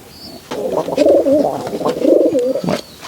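Green dobaz Giribaz pigeons, a Rajshahi tumbler breed, coo loudly and up close in a continuous warbling, throaty stream that rises and dips for about two and a half seconds, with no voices.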